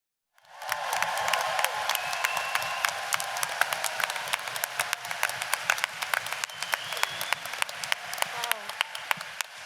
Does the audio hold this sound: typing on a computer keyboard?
no